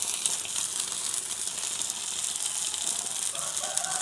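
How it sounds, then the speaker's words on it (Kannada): A pan of green masala fish frying Mangaluru style, its lid opened to a steady, loud sizzle and crackle of hot oil that hisses continuously throughout, close up, with no talking. "ಇವಾಗ ಲಿಡ್ ಓಪನ್ ಮಾಡ್ತಾ ಇದ್ದೀನಿ"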